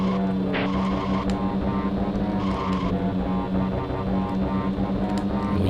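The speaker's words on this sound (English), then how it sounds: "Alright, I think it's time to gun a nitro." Engine roar from the SNES racing game Top Gear as a car fires its nitro boost, a steady loud synthesized drone with a droning low tone and shifting higher buzz running through the whole stretch, no voices.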